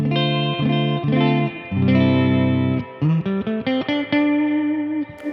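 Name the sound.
electric guitar through Mesa Boogie Express Plus 525 amp, full reverb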